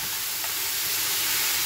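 Frozen greens cooking in a hot pan, giving a steady, soft sizzling hiss with no pauses, heard alone.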